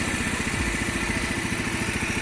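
A Daelim Daystar 250 motorcycle engine idles close by with a steady, even chugging pulse and no voices.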